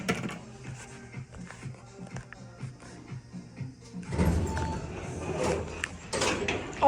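Rough-running Montgomery A-Series hydraulic elevator doors at a Bloomingdale's store: a steady series of light mechanical ticks, then a broad rumbling slide as the doors move, heard up close with no talking.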